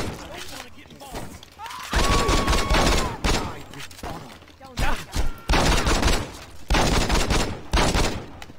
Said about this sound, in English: Oh, you had your shotgun.